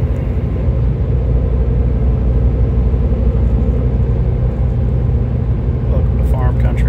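Steady loud road rumble from a Jeep Liberty cruising at 65 mph through farm country over bumps, a continuous low engine and tire drone filling the whole stretch, with someone talking over it.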